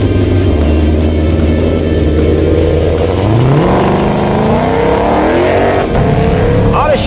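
A 2020 Ford Mustang Shelby GT500, 760 horsepower, accelerates hard on the Atlanta Motorsports Park race track, its engine note climbing steadily through a loud, close run as a voice talks over it.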